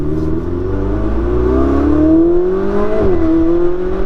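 A Ferrari engine drones loudly from inside the moving car, its pitch climbing smoothly under acceleration, then dipping briefly and settling into a steady cruise, with no one speaking.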